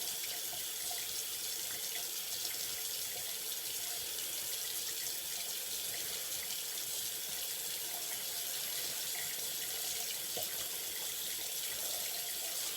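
A tap runs steadily into a sink for a cold water rinse after shaving, a constant, even splashing stream, fairly faint and uninterrupted, with no talking.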